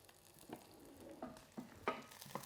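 Garlic and ginger sizzle steadily in hot oil as a Chettinad tomato-onion gravy base gets started, with a few sharp spoon scrapes and clinks cutting through the soft frying hiss.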